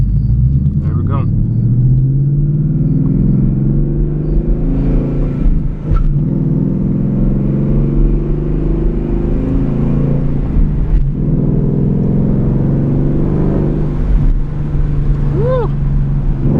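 A 2020 Ford Mustang 5.0 with a muffler delete rumbles loudly from inside the cabin on a night drive, a deep steady engine drone building as it accelerates, with someone talking over it.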